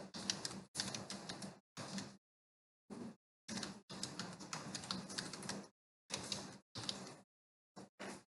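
Bursts of quick clicking on a computer keyboard while typing a comment into an Excel spreadsheet, close and clear, separated by short silent pauses.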